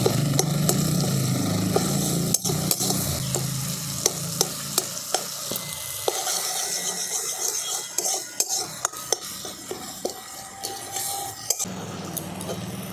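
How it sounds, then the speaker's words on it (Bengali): Ground spices with coriander powder and green chillies frying in oil in a pan for eggplant kofta curry, with a continuous close sizzle and a spatula scraping and clinking steadily against the pan throughout, no voices. "এবারে সমস্ত মশলাগুলো আমি একসাথে খুব ভালো করে কষিয়ে নেবো"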